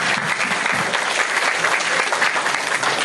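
A church congregation bursts into sustained, dense applause during a Bible talk, with many hands clapping steadily and evenly for about three seconds.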